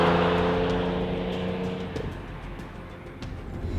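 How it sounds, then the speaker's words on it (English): Engine and quad exhaust of a 2015 Audi S4 in dynamic mode, a loud revving drone with steady harmonics for about two seconds, then dropping away into a rougher, fading rumble. "The exhaust note in this car is fantastic."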